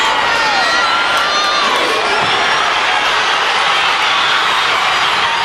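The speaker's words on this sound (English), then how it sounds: "Boy, this crowd has come alive." Basketball crowd in a high school gym during a Dothan versus Northview game, cheering and shouting loudly and steadily throughout, a dense roar of many voices without letup.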